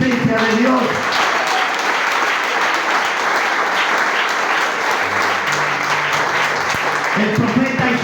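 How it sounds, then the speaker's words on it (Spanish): A church congregation claps together in sustained, dense applause during a worship service, with voices audible at the start and end and a low tone sounding underneath partway through. "yo te invito a aplaudir a la presencia de Dios"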